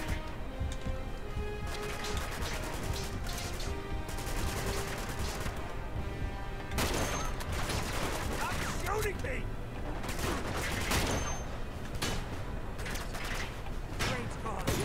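Sustained gunfire in Uncharted 2: Among Thieves, dense rattling bursts with scattered louder cracks throughout, layered with game music and effects, while a player talks over the action.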